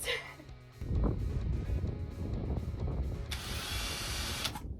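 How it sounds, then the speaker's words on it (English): A power drill whirs steadily at close range while cutting in a camper van roof for a skylight hatch, its motor droning for several seconds with a sharp high-pitched burst near the end. "As soon as the drill turns on, I'm like, dear God."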